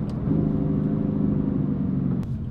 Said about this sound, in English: it sounds a bit deeper and mind you the exhaust is still closed